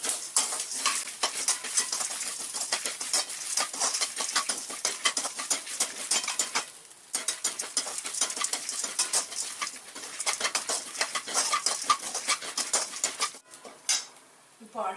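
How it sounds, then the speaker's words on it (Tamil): Grated coconut roasting in a pan while being stirred for Thiruvathirai kali kootu, a continuous close dry scraping and rattling of spoon against pan, with no talking. "இதுல தேங்காய் ஒரு 1/4 மூடி தேங்காய் அதையும் போட்டு அதையும் வறுக்கணும்"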